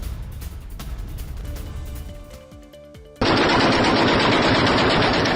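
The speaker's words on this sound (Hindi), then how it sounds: "अफगानिस्तान की ताबड़तोड़ फायरिंग" Heavy gunfire at the Afghanistan-Pakistan border during a clash, with scattered distant shots and booms giving way to a sudden, loud, continuous burst of rapid automatic fire that sustains to the end.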